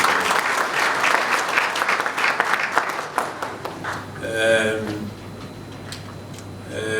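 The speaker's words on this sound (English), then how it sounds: "Let's give them a big hand of applause" Audience applause at an education sector conference, a steady wash of many hands clapping for a few seconds that gives way to a voice speaking over a hall.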